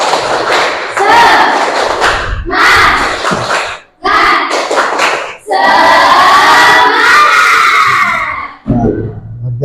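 Classroom students loudly perform the tepuk semangat spirit clap chant, alternating rhythmic group claps with shouted chanting in several bursts and a sustained collective cry near the end, close and energetic.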